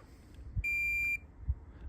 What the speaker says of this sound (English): We want to go on the side of them and hear them beep